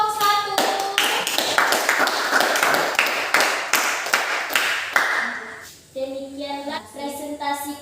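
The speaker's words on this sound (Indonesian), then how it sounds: "tepuk tangan untuk kelompok 1" Students clapping for a group's class presentation, a cluster of distinct nearby claps in a loose rhythm, then a brief lull before a voice speaks near the end.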